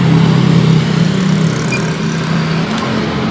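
Yamaha Aerox 155 scooter that struggles to start, its engine running with a steady loud buzzing hum close by that dips slightly in level, with no voices.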